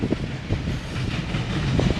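A CSX northbound coal train rolls past in Marion, Ohio, a loud, steady low rumble of rail cars with faint clickety-clack of wheels over joints, close by and continuous, with no voices.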